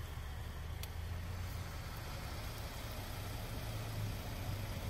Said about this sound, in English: There's a big truck coming.